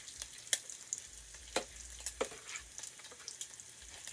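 Puerto Rican sofrito dropped into a pot for rice and beans gives a faint, soft sizzle with a few sharp crackles and utensil clicks, quiet and close, with no speech.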